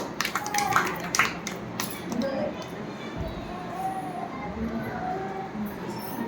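A group of children claps in a classroom, a short burst of many hands up close at the start that fades into murmuring voices and room noise.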